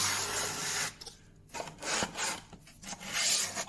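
Sandpaper rubs along a wooden edge in short, quiet strokes, a soft rasping scrape that starts and stops several times in a small workshop.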